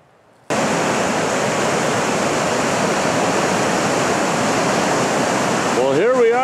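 Foster Falls waterfall roaring in a loud, continuous broadband rush after a brief quiet start, with a voice beginning to speak briefly near the end.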